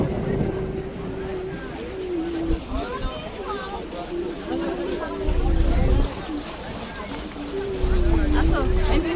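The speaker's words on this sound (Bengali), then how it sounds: "দুটো লঞ্চ আমাদের যাচ্ছে, আমরা এখন বাড়ি ফেরার উদ্দেশ্যে রওনা দিচ্ছি।" A launch boat crosses the Sundarban waters, its engine drone and water rush sitting beneath a steady tonal hum, while people talk and wind buffets the microphone in bursts.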